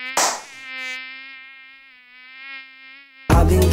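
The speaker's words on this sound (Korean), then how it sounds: "모기가 또 왜 이렇게 많을까?" Steady high-pitched mosquito buzz hovering close by with an open window, bracketed by a brief noisy burst at the start and a loud thump at the end, with no voices.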